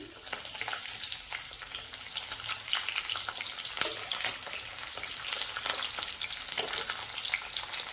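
Steady, hissing sizzle of onions frying in hot oil, close up and continuous throughout, with no voices.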